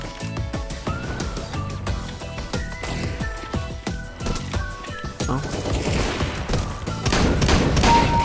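Shotgun blasts from Counter-Strike: Global Offensive ring out repeatedly amid dense, busy in-game gunfire and action noise, loud and close throughout, with a heavier burst toward the end.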